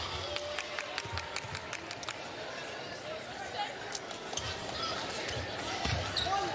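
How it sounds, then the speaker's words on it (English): At a women's college basketball game between UConn and Xavier, an arena crowd roars and chants after a missed free throw, with sneakers squeaking and a commentator talking throughout. "The crowd aptly chanting air ball"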